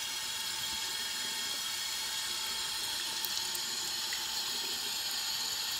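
Tap water runs steadily into a sink to wet a dry EnviroCloth, a constant bright hiss and splash with no pauses, close and alone.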